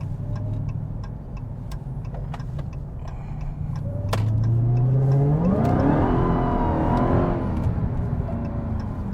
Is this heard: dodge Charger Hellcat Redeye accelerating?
yes